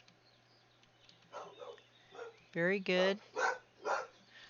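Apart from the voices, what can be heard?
dog barking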